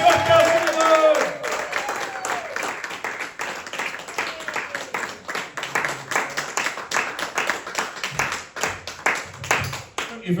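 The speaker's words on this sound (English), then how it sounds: "I'm going to start cheering and go crazy for Christopher Lofthouse." An audience at a comedy club in Coulby Newham claps and cheers in a lively run of scattered hand claps and crowd noise, with voices talking over it throughout.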